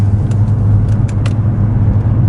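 A Nissan GT-R R35 Recaro Edition, four-wheel drive with a rear-wheel bias, drives with traction control partly off, giving a steady, loud low engine rumble with some brief higher bursts, close and continuous.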